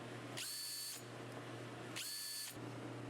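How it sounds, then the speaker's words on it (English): A power drill bores pilot holes for door hinges in an entry door jamb using a Vix bit, running in two separate bursts of about half a second each, loud and close, with quiet gaps between and no talk. "use a Vicks bit to start the pilot holes needed"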